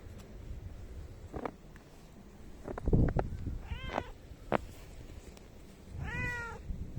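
A pet cat meowing indoors, two clear drawn-out meows with a few short chirps and bumps between them, close to the microphone with no talking.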